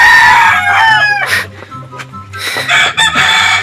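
Rooster crowing loudly and repeatedly with chickens clucking around it, at a chicken trader's farm, close and clear with no talk.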